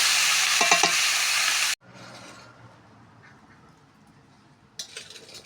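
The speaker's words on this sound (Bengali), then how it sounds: "এই যে ডিম একসঙ্গে দিয়ে বেজে নিচ্ছি" Eggs fry in a pan with a loud, bright sizzle that cuts off abruptly, followed by quiet scraping and stirring and a brief burst of sizzle near the end.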